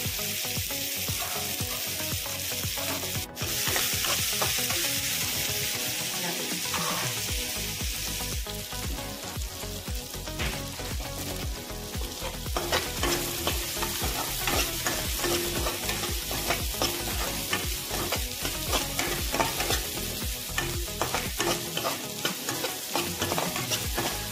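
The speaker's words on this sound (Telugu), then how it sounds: "ఉల్లిపాయలు, పచ్చిమిరపకాయలు బాగా వేయించుకోవాలి" Onions and green chillies fry in groundnut oil in a pan, a loud, steady sizzle running throughout with frequent stirring clatters and scrapes close by, no voices.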